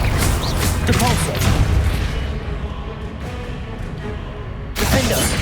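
Depulso knockback spell cast in Hogwarts Legacy, a loud booming magical blast with a crackling burst at the start, rumbling on beneath game noise and shouted incantations, then a second sharp blast near the end.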